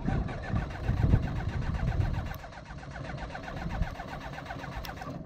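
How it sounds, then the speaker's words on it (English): A microlight aircraft engine with a suspected starting fault is cranked after an inspection, giving a rapid, even mechanical churning that is louder at first, then settles into a steadier, quieter rhythmic chatter. "So Shelley had an attempt at starting the engine after an inspection."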